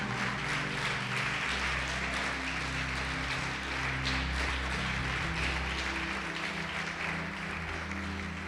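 A church congregation applauds in sustained, even clapping that fills the room at a steady level, with a low hum of organ or music underneath.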